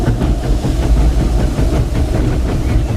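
Riding aboard the Disneyland Railroad steam train: a close, continuous low rumble of the cars with soft clickety-clack beats and engine drone, no voices.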